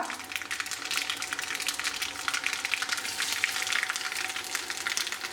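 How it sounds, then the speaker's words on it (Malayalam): Mustard seeds and dried red chillies frying in oil for a Kerala ash gourd kootu curry, a continuous soft crackling sizzle with fine popping, close and moderate in level, no talk. "വറ്റൽമുളക് ചേർത്ത് കൊടുക്കുക"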